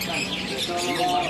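F1 Super canaries at a bird kiosk give brief, bright chirps and tweets over soft background murmur.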